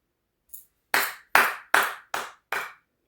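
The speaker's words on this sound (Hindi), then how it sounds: "तुम्हारे लिए ताली है" Five sharp, loud claps spaced evenly about every half second, preceded by a faint softer tap, with no talking.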